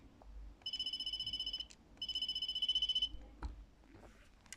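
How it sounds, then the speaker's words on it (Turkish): A mobile phone rings indoors, playing two bursts of a bright, pulsing electronic ringtone separated by a short gap, loud and close, with faint clicks and handling noise between the bursts. "Ay yine telefonum çaldı."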